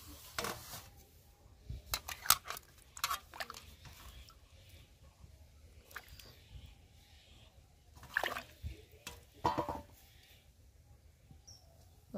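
Ripe tomatoes are rinsed by hand in water, giving quiet, close, intermittent splashes and drips in short bursts separated by near-silent pauses.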